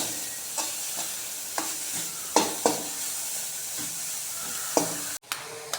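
Pumpkin leaves stir-fried in a pan for a traditional Kerala thoran, a soft steady sizzle with repeated sharp spatula scrapes and taps at irregular intervals, fairly close and quiet, with no talking.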